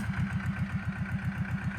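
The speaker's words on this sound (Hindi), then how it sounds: "20-25 HP का ट्रैक्टर, 2 सिलेंडर, 425 पावर ट्रैक" A Powertrac 425 two-cylinder tractor with a 20-25 HP engine runs steadily, its low, regular chugging pulses close and fairly loud, with no talk.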